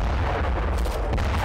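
Russian artillery fire in war footage, a dense, loud, continuous rumble of booming blasts with no pauses and no voices.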